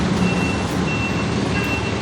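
Busy street traffic rumbles steadily while a truck reverses, its thin high beeps repeating through the constant engine noise, fairly close and loud.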